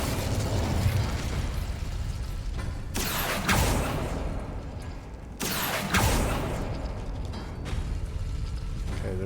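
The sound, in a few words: Incendio fire spell in Hogwarts Legacy video game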